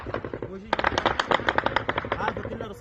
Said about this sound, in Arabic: هذا كله رصاص